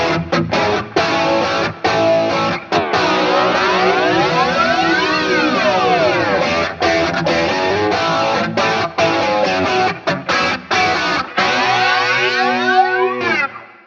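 Electric guitar run through a flanger and pitch effect blended in parallel on an 80s cover-band preset, loud and sustained with sweeping, swirling harmonics and a few brief drops before a fading tail.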